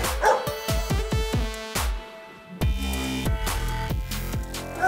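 Boerboel and Rottweiler puppies barking at Masrott Kennel, a rapid run of sharp, close yips and barks, a brief pause, then more overlapping high-pitched barking from several pups.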